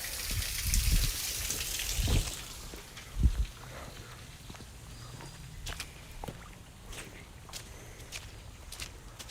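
Steady light rain patters softly outdoors, with scattered nearer drips and a couple of heavier thuds standing out against the continuous hiss.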